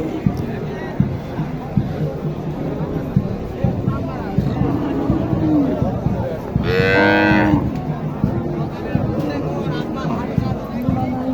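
At a busy cattle market in Naogaon, Bangladesh, where local cows and Sahiwal calves are traded, a cow lets out a single loud moo of about a second, set within a constant crowd babble and close talk.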